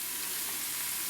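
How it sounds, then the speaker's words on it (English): Vegetables sizzle and fry steadily in a hot pan as they sauté for blackened chicken, a close, continuous crackling hiss with no voices. "Just saute that for a few minutes."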